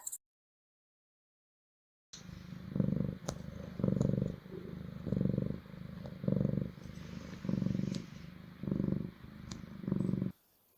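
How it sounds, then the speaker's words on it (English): A cat purrs close up in a slow, regular rhythm of about eight rumbling cycles, each inhale and exhale distinct, after a short stretch of silence. "The cat is purring."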